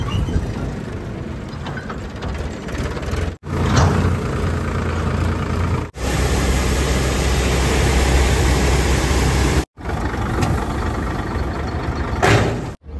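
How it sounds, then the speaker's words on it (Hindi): A farm tractor engine drones steadily as it drives toward a harvester in a field. The loud, continuous low rumble breaks off abruptly a few times before resuming. "अभी मैं ट्रैक्टर पर बैठा हूँ और हम चल रहे हैं हार्वेस्टर के पास में"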